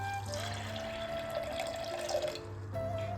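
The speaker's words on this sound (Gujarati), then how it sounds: "અને મગ ડૂબે તેટલું આપણે પાણી એડ કરશું" Water pours steadily into a pressure cooker holding mung beans at close range, a continuous splashing flow with a brief dip before resuming.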